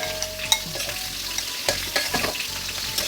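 Shrimp frying in oil with turmeric, a steady close sizzle broken by scraping stirs and a few sharp ticks of spattering, with no talking.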